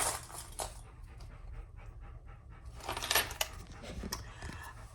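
A dog pants steadily and fairly close, with quick rhythmic breaths and a faint jingle of tags or keys, heard alone indoors in a closed room.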